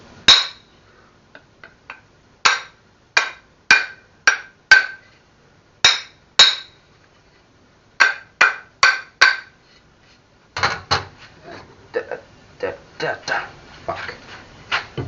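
A hammer knocks a wedge into a hatchet handle: sharp, close metallic strikes in short spaced groups, then a faster, busier run of lighter taps at the end.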